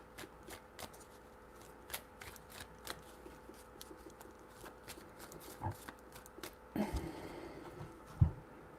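Tarot cards are shuffled by hand in a quick series of soft riffling slaps, close and fairly quiet, ending in a few louder taps.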